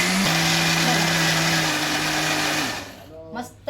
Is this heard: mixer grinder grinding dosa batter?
yes